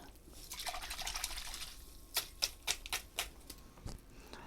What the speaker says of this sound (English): let me rinse it off a little bit more